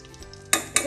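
Butter and ghee sizzle in a pan with carrots, with two sharp bursts of hiss and a faint stirring scrape, close by and no talking.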